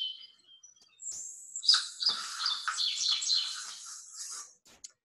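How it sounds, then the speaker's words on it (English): A grasshopper sparrow gives a thin, high, insect-like buzz and a tumbling trill of squeaky notes, clear and close against a quiet background. "heard the grasshopper sparrow a few times in the background there"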